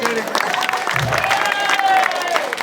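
Audience applause at a Pongal 2026 stage event, a steady burst of clapping from a crowd lasting a couple of seconds, with a voice speaking over it.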